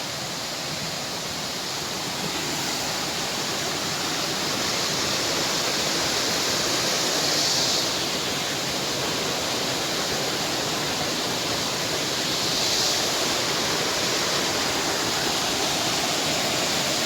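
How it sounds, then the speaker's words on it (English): A small waterfall beside a mountain hiking trail on Mt. Washington rushes in a constant, full broadband roar, close and steady from start to finish, with no talking. "Beautiful little waterfall there."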